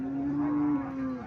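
A Friesian dairy cow lets out a single close, sustained moo that holds a steady low tone and sags slightly near the end.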